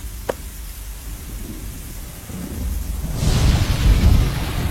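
Lightning storm with rain around a broken radio transmitter mast: a sharp crack early on, then steady rain that swells into a loud rolling thunder rumble, with no voices.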